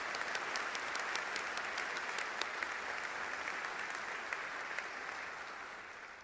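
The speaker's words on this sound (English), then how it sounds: "Please give a round of applause for Ms." Applause from a graduation and white coat ceremony audience at Charleston Southern University, a steady wash of many hands clapping, fairly distant and soft, holding for several seconds before slowly tapering off.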